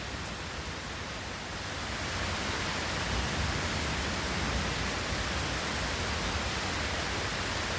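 Heavy summer storm rain pours down in Washington DC as a dense, continuous roaring hiss that swells slightly after the first couple of seconds, loud and steady with no voices.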